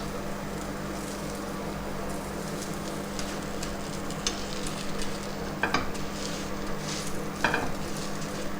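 Masala dosa frying with ghee in a pan gives a steady, soft sizzle throughout, with a few brief scraping or stirring clicks near the end and no voices.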